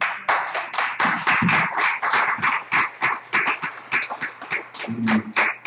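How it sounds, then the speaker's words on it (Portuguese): A church congregation claps together in a rhythmic, uneven pattern of sharp, close claps, loud and distinct, with a few voices in the background near the end. "palmas e glória ao Senhor"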